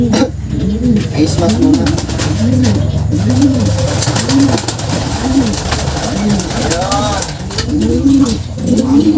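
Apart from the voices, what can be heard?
pigeons cooing, young pigeon in loft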